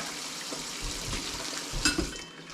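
Water runs steadily from a kitchen tap while homemade bacon is rinsed, a soft continuous splashing heard up close with a few brighter spatters near the end and no talk.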